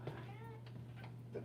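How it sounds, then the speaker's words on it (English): A cat gives a single short meow close by, faint against a steady low electrical hum and some background talk. "Even the cat looking at me hungry."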